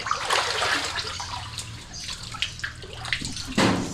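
Water from a pump gushes and splashes into a container nearby, sputtering unevenly because the flow is not coming through fully, with irregular bursts and gurgles over a few seconds.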